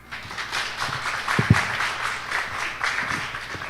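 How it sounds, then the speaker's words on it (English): Audience applause after an inspiring talk on mental health, a brief steady wash of clapping from a seated crowd, moderately loud with a few sharper claps standing out. "Let's give Ma'am another round of applause, please"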